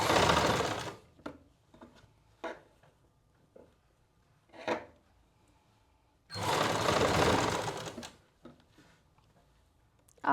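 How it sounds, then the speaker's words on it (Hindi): A sewing machine stitches a neck patti onto thin lining fabric in short bursts, one brief run at the start and a longer two-second run later, separated by quiet handling clicks and rustles close by. "इस पर पक्की सिलाई लगाओ चाहे कच्ची, कोई फ़र्क नहीं पड़ता"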